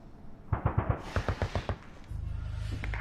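Gunfire rings out as two quick volleys of sharp cracks, about four shots then six in a steady rhythm, followed by a low droning rumble.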